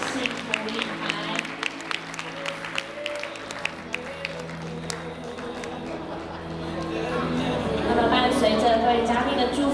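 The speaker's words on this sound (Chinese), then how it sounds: "也请各位嘉宾用的掌声陪伴我们新人步上我们的幸福礼台" Guests at a wedding clap as the bride and groom enter, scattered applause under music, swelling into a fuller, louder round of clapping toward the end.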